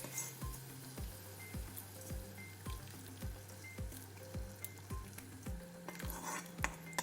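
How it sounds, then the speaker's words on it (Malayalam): Fried mustard seed tempering poured into a pot of Kerala rasam, with a steady sizzle and repeated light clinks of a metal spoon or ladle in a regular rhythm. "എന്നിട്ട് നമ്മൾ കടുക് വറുത്തത് ഇതിലോട്ട് ഒഴിച്ച് കൊടുക്കാം."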